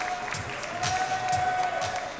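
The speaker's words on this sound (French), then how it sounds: "Applaudissez-la bien fort également" Applause from the public at a Japan Expo stage event for a 1-2-Switch challenge, a steady, dense wash of clapping with a thin sustained tone running through it.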